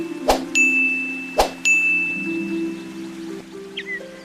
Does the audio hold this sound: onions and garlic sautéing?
no